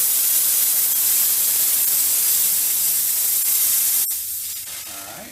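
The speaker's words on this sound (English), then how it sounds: "you can see how much drier the steam is without the injection" A Vapor Clean Desiderio Plus steam cleaner jets dry, high-heat, low-saturation steam in a steady close hiss, then cuts off with a sharp click and the hiss fades away.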